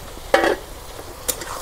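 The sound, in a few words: broiler chicken frying in oil on a clay stove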